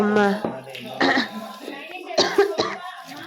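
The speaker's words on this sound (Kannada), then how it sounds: "ಸಾರಿ ನನಗೆ ಕೋಲ್ಡ್ ಆಗಿರೋದ್ರಿಂದ ಕೆಮ್ಮಿರೋದ್ರಿಂದ ನಿಮ್ಗೆ ಡಿಸ್ಟರ್ಬೆನ್ಸ್ ಆಗ್ತಿರ್ಬೋದು" Someone with a cold coughs several times in short harsh bursts, close to the microphone, with brief throat sounds and pauses between the coughs.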